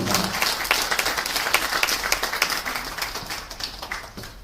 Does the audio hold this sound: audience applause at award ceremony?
yes